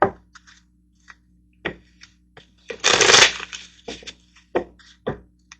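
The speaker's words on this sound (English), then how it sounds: "Let's get a couple of money cards over here for you." Tarot cards snap and tap in scattered single clicks, then a dense riffle shuffle bursts out for about half a second, followed by a few more close, crisp card taps with no talk.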